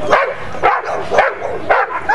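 A trained protection dog barks in a series of about five loud, sharp barks at a regular pace, close and alone.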